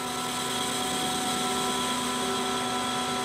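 Lathe facing a metal part for hydraulic press die chuck soft jaws, a steady continuous machining hum and whir with no pauses throughout.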